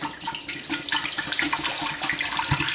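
Water running into a large pot, a steady splashing stream heard close and alone, as about three litres of Volvic water are added to make the wort for a homemade honey beer.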